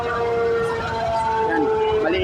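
Several fire truck sirens wailing at once as engines arrive at a fire, overlapping rising and falling tones, loud and continuous, with voices under them.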